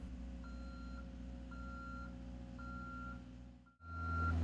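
A JLG 1500SJ boom lift swinging its boom, with steady alarm beeps about once a second over a constant engine drone, then a sudden shift to a louder, deeper engine sound near the end.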